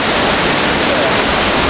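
Loud, dense, steady rush of water at Tamanique Waterfall in El Salvador, a close broadband roar that fills the entire short stretch without a break.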